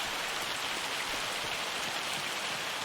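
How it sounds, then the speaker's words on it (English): Rain falls steadily in Farming Simulator 25, a dense, even hiss of drops heard alone without pause. "it's raining."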